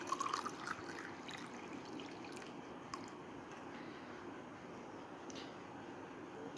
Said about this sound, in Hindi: अब मैं इसके अंदर मज़ीद 2 गिलास पानी शामिल करती हूँ।